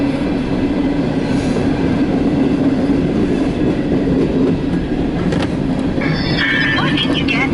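An empty CSX coal train, E781-11, rolls past on the old main line. A loud, close, continuous rumble of wheels on rail carries clickety-clack beats, with brief wheel squeal toward the end.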